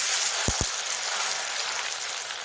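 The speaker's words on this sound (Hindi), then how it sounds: "गरम गरम ऑयल में डालेंगे हम नूडल्स और इन्हें ब्राउन होने तक फ्राई करेंगे" Noodles frying in hot oil in a wok over a high flame, giving a steady, dense sizzle throughout, with two brief low thumps early on.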